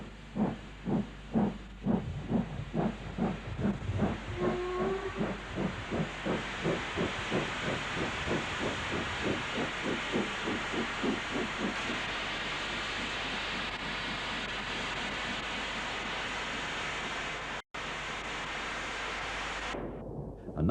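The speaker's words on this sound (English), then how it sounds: "Unrebuilt Patriot number 45518, Bradshaw, is seen entering the station." Unrebuilt Patriot steam locomotive 45518 Bradshaw enters a station, its exhaust chuffing in a quick steady rhythm that blurs into a continuous roar of steam and hiss, heard from close by with an old, worn tape quality.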